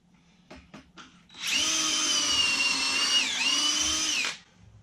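A power drill drives a construction screw, a few brief clicks leading into a steady close whine of about three seconds with a slight dip midway before it stops.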